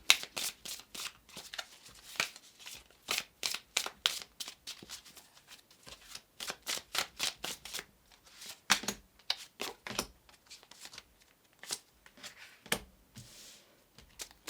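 A deck of tarot cards is shuffled by hand up close: repeated crisp riffling bursts and soft slaps come in irregular clusters throughout, with no voices.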